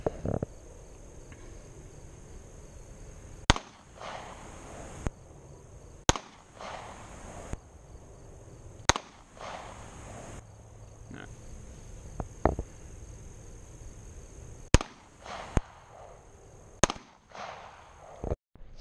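Single handgun shots ring out at an outdoor shooting range, sharp, loud cracks spaced a couple of seconds apart against a steady buzz of crickets, with about eight shots in total.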